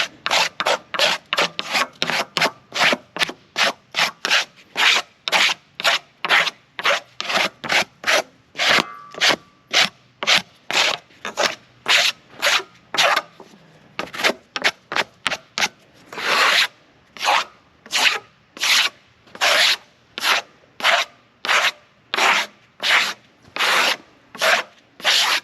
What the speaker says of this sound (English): That's why I'm having a little bit of trouble scraping them off.